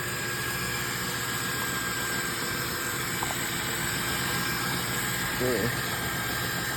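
A car engine with a reported rod knock runs steadily in a garage, the car up on a jack, a continuous rumbling drone throughout with a brief spoken word near the end.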